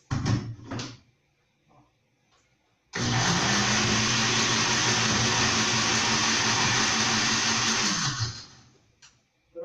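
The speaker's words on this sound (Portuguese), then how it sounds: "vou dar uma batida aqui rápida no liquidificador" A blender briefly whirring passion fruit with water, a loud steady motor roar that starts abruptly, runs about five seconds and cuts off, with small clicks and handling knocks before and after.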